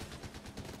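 Gunfire in the video game Fortnite, a quick string of repeated shots packed into under a second at moderate loudness, with a steady game soundscape underneath.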